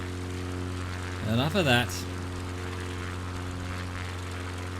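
Steady drone of a propeller airplane in flight, heard from inside the cabin on a bush trip over North Queensland, a constant engine hum throughout with a brief voice speaking over it.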